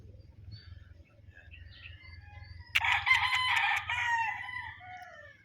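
A Raptor sweater gamefowl rooster crows once, loud and close, with a long harmonic call after a quieter stretch of farm ambience and low hum.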